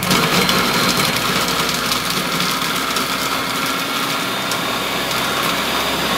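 An MCC food processor runs at speed 9 chopping Camembert dip ingredients, giving a loud, steady motorized whir with a rattling grind that holds unbroken for about six seconds.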